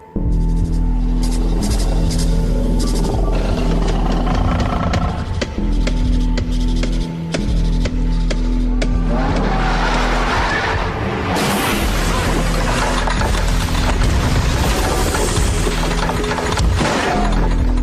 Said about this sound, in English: That was the noise of the weird monster, the smoke monster, from Damon Lindelof and Carlton Cuse'